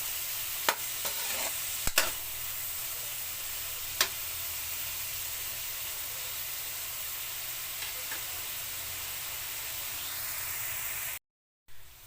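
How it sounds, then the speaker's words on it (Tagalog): Tomatoes sauté in a pan for a moringa fruit dish, giving a steady, bright hissing sizzle with a few sharp clicks and stirring knocks before it cuts out briefly near the end. "So, igisa po natin ng maigi yung kamatis mga kamega."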